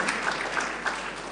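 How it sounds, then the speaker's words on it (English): A short burst of audience applause at a startup funding panel discussion, steady dense clapping lasting just over a second with no talk over it. "Let's give them a round of applause regardless."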